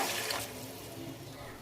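Water pours into a cooking pot while making pulao, a brief, soft, steady splashing rush that fades after the first half second, heard alone without talk.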